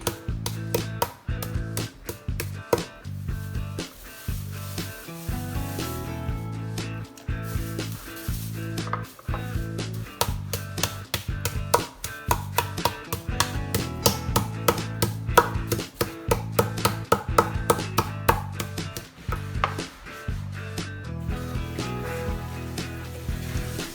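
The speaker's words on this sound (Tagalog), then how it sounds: "I-pound natin ito para matenderize ang ating chicken." Chicken being pounded inside a plastic bag to tenderize it, a rapid, continuous series of sharp thuds on a board, loud and close with no talking.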